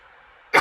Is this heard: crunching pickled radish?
no